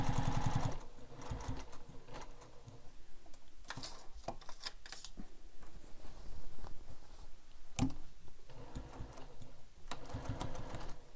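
A sewing machine stitches the seams of a carryall bag, running in steady mechanical bursts punctuated by sharp clicks and a few pauses, close and moderately loud with no talking.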